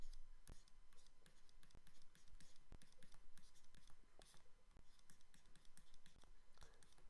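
A pen writing out a maths problem on paper, soft scratching strokes with scattered sharp taps, faint and close, with no voices.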